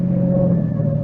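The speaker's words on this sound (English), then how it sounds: "But I drove Alan Carlin's car like a reckless idiot, taking every curve as if it was a race course" Car engine in a radio drama sound effect, a car driven fast along curving roads: a steady, loud, close engine drone holding one pitch throughout the short stretch, with no voices.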